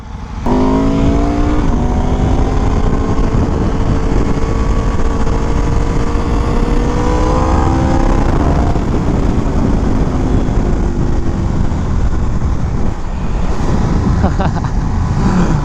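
A new motorcycle being ridden during break-in, its engine droning loud and close with rising and falling rev tones, plus heavy wind rush throughout.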